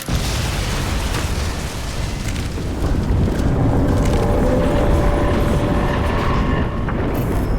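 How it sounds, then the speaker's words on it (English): In the video game Crysis 2 Remastered, a loud explosion erupts and rolls on as a sustained, rumbling blast with crackling bursts that swells slightly in its latter half. "Explosion imminent."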